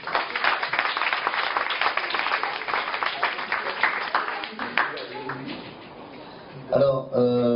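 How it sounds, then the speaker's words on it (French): Audience applause at a gathering, a dense burst of clapping that fades after about five seconds, followed by a voice speaking. "Razak Oubaro, Kheli, on peut l'applaudir"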